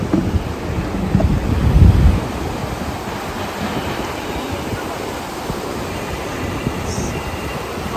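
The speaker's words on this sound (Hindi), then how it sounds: "यहाँ ठंडी ठंडी हवा चल रही है" Cool wind blowing at Sonmarg in Kashmir, a steady, broad rushing roar buffeting the microphone, loudest in the first two seconds and then settling into a constant gusty hiss.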